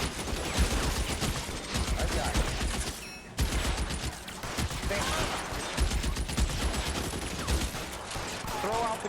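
Rapid bursts of video game gunfire in a shootout, dense and loud, running nearly the whole time with a short break, while people talk over it.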